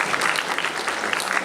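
Steady applause from a church congregation, continuous clapping for the whole stretch at a moderate, even level.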